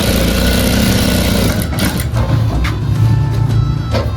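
Sewing machine stitching a waistcoat pocket, a loud close steady mechanical whirr that slows briefly midway with a few faint clicks, then runs on, no talking.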